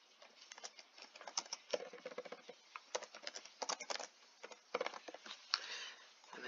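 Someone types a comment on a computer keyboard with quick, uneven bursts of close, light key clicks, with short pauses between them.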